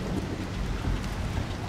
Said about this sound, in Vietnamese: Mưa to mẹ rồi.